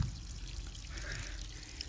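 Cold river water flows steadily near mountains, a faint, even wash of broadband rushing with no distinct splashes, heard at low level from a short distance.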